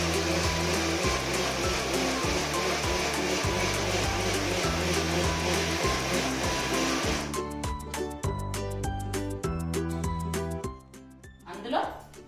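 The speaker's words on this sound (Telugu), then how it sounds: "ఈ మామిడి పండు గుజ్జులోనే ఈ పండుది కూడా వేసుకొని బాగా స్మూత్గా మిక్సీ పట్టుకుందాం" Mixer grinder blending mango pulp to a smooth consistency for homemade Frooti, a loud continuous motor whir with pulsing chop that cuts to a quieter rhythmic grinding near the end.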